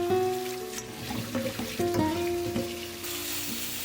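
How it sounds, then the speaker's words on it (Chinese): Carrots rinsed under running tap water in a home kitchen, a continuous trickle and splash with irregular knocks and rubbing as the roots are handled, close and moderately loud. "又留下一半胡萝卜，这些先用清水洗一下。"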